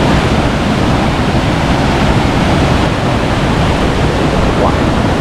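Water bursts from the Artezuela spring at its source in a steady, loud, broadband rush, dense and continuous throughout with no pauses, close to the listener and heard on its own.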